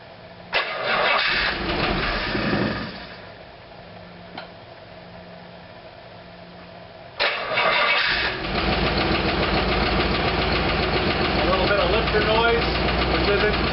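A 1956 DeSoto Seville V8 cranks and fires on its first start after a rebuild, dies back, then restarts into a rough steady idle with ticking from air in the hydraulic lifters; a voice talks briefly near the start.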